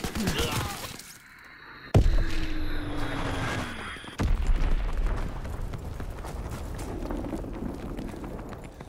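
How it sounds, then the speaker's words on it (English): An Azon bomb dropped in the Call of Duty WWII video game: a sharp blast hits, then a second heavy boom follows with a rumbling, crackling tail of debris and battle noise. "Location confirmed. Dropping Azon bomb."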